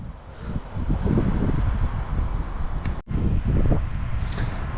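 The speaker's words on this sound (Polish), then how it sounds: "Wam pewnie wieje mocno wiatr" Heavy low rumbling buffets of wind batter the microphone almost without pause, with a brief dropout partway through.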